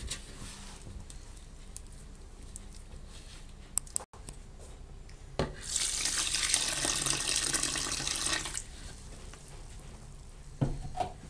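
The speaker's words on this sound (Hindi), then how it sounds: "पानी थोड़ा थोड़ा करके डालें। पहले 1 लीटर डालें, उसमें इसे मिक्स करें।" Water is poured into maida flour in an open pot while making mukhadi halwa, a steady splashing stream lasting a few seconds, with faint clinks and kitchen noise before and after.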